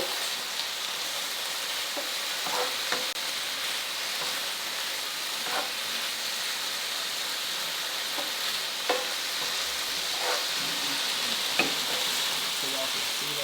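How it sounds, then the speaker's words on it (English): Chicken sizzles steadily as it pan-fries, a continuous crackling hiss with occasional sharper pops and the faint scrape of stirring. "I'm just pretty much pan frying it, and then I turn it down real low."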